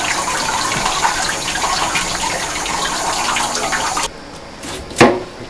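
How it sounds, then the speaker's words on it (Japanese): Hot water pours steadily over a whole fish to loosen its scales, a continuous rushing splash that stops abruptly, followed by a brief sharp clatter. "きちんとね、お湯かけると鱗がね、"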